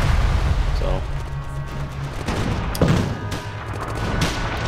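Artillery and gunfire boom in the WWII strategy game Theatre of War, with several sharp blasts and bursts at about one and three seconds over a continuous battle rumble, while a voice talks underneath.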